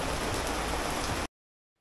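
Steady rain falling outdoors during a trip, a dense, even hiss that cuts off abruptly after about a second, with no voices.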